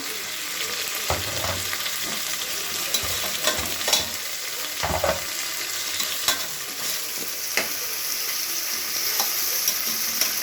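Mint, curry leaves and coriander sizzle steadily in hot oil in a pan for bagara rice, a constant close crackle with occasional scraping stirs and sharp pops standing out.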